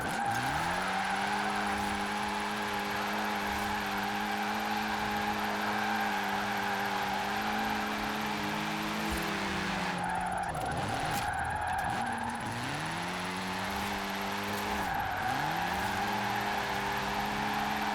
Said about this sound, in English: Like I said, a lot of torque, a lot of wheel spin.